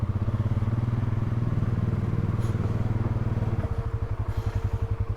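A motorcycle engine chugs at low revs while climbing a washed-out canyon trail, close and steady with rhythmic pulsing that shifts pitch midway.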